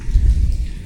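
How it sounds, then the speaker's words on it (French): Steady rain falls outdoors near a boat hull, a dense low rushing hiss with soft patter, fairly loud and continuous with no voices. "comme vous voyez, il pleut encore"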